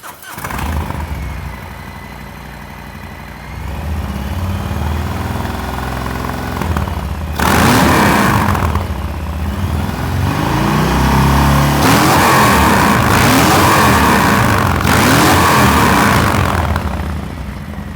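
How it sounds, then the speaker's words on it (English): A Milwaukee 8 Softail motorcycle with an S&S 2-into-1 exhaust starts, idles with a deep rumble, then gives several loud, close throttle revs that swell and fall back. "We're gonna let you listen to all of these pipes and let you listen to the S&S one right now."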